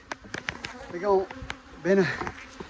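Honey bees buzz close by in short rising and falling drones during honey harvesting with a blower, with scattered soft taps and rustles between the louder passes.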